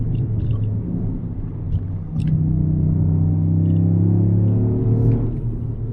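A Toyota Yaris GR is driven, its engine a steady low rumble with a rising tone as it pulls, heard from inside the car at a constant loud level.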